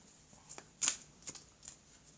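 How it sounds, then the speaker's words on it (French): Oracle cards are shuffled by hand in a quiet room, giving several soft, brief riffling bursts with one louder flutter in the middle. "je vais prendre maintenant les cartes de l'oracle du monde. On va recouvrir le jeu ici."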